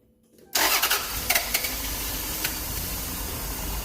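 A 1993 Toyota Camry engine cranks and catches after a moment of silence, then settles into a steady, close idle with a few brief revs just after starting.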